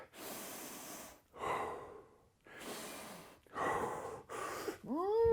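Heavy, rapid breaths during a short rest between dumbbell exercises, with several loud close puffs and gasps in quick succession and a brief vocal sound at the end.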